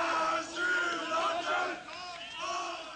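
A jeering, bellowing crowd at the Rostock riots roars in surging waves, close and loud, with no single voice standing out.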